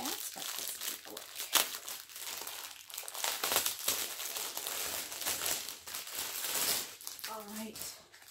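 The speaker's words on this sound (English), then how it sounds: "there's going to be a little bit of crinkling because again, I just opened it." Plastic packaging of a freshly opened diamond painting kit crinkles and rustles up close in irregular bursts, with a short stretch of talking near the end.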